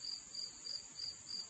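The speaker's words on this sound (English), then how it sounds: "I know, the sound of crickets." Crickets chirp steadily near a barn, a high shrill trill pulsing in short regular bursts about every third of a second, soft and constant with no voices.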